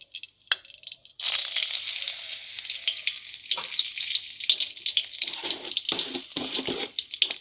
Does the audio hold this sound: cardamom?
yes